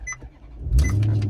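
Engine of a 2017 Maserati GranTurismo GT Sport cranking and catching after an old-style flip-up key is turned, a short beep first, then a loud low rumble settling into idle close by.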